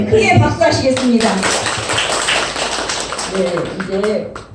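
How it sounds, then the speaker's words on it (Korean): A church congregation claps loudly in worship, a dense and close burst of hands that continues under voices heard at the start and again near the end. "크게 박수하시겠습니다."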